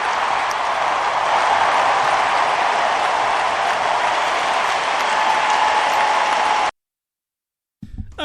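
A campaign rally crowd cheers and claps in a loud, sustained roar of applause that cuts off abruptly, followed by a short silence and a brief sound at the end.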